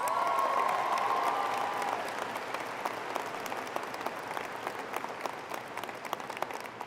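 Graduation audience at a high school ceremony applauds staff and teachers, a broad wash of clapping that starts dense with a brief cheer or whistle, then thins into scattered, distinct claps.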